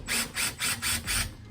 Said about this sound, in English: So I've just got my Ryobi cordless drill here.